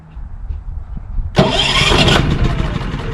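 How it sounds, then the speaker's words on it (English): Champion 3400-watt dual fuel inverter generator turned over by its electric starter, catching abruptly and settling into a loud, steady engine run close by. "I'm going to do the electric start again."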